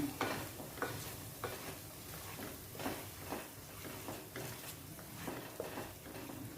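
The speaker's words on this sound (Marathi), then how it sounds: "बघा हे वाटण थोडा वेळ मंदाचेवरती व्यवस्थित असं आपण परतून घेऊया" A sesame spice paste sautés in a pan over low heat, with soft, rhythmic scraping and stirring strokes over a faint sizzle, quiet and close.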